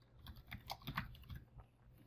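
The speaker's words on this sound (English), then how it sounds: "we could just start typing" Fingers tapping a computer keyboard to enter notes, a quiet, irregular run of soft clicks with no talking.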